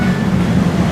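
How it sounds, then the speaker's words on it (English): An airport rail shuttle train approaches the station at Miami airport, giving a loud, steady low rumble and broadband rolling noise, close by and alone without voices. "Stand clear. The train is arriving shortly."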